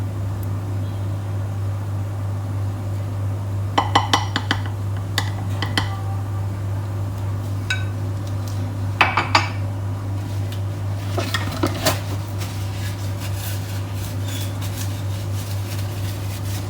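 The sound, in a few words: spatula scraping molten cake batter in a bowl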